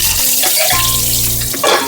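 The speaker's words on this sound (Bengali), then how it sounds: "চলুন তাহলে মাছগুলো ভেজে নিই" Pabda fish frying in hot oil: a steady hiss and crackle with small pops, alongside a low tonal hum from the stove or kitchen.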